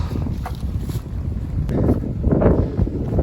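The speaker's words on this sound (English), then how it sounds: "I was hoping to find somewhere out of the wind, and this is not out of the wind." Wind buffets a microphone on the Appalachian Trail near Cooper Gap on a mountain slope. A steady, loud, low rumbling gust swells toward the end, with no talk.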